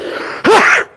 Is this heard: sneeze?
yes